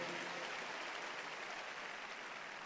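A worship congregation at a Faith Tabernacle church service claps and applauds together, a dense, steady wash of hand clapping filling the whole stretch at an even level, with no voices standing out.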